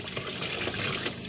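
Water runs through a campervan's plumbing system to the sink tap, a steady broadband rush of flow that holds at an even level for about a second and a half, with no voices.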